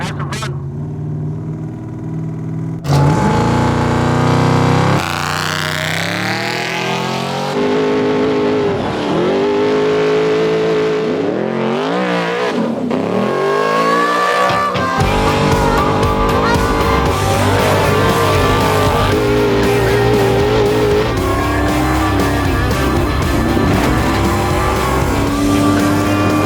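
Desert race car driven by Toby Price, heard from inside the cockpit: a loud engine revving hard and rising and falling through gear changes, with sustained acceleration and a few brief dips, close and continuous throughout.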